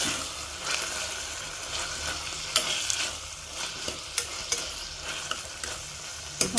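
Tomatoes being stirred into a frying pan for a dry fish curry with small cucumber, a quiet steady sizzle with intermittent spoon scrapes and taps against the pan, no speech.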